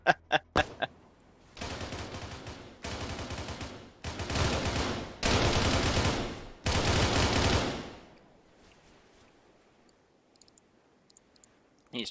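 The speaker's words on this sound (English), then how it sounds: "He's trying to fire through the floor." Automatic gunfire in a tactical shooter video game: a few quick clicks, then several long, loud sustained bursts separated by brief pauses, trailing into quiet with faint voices and sporadic clicks.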